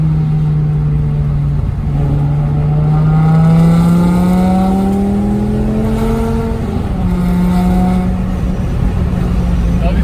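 A BMW E60 M5 with its V10 engine revving steadily up and down, a loud, close, sustained tone that climbs gradually then settles, with no other sounds over it.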